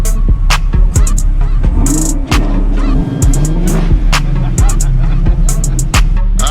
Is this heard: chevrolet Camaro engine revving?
yes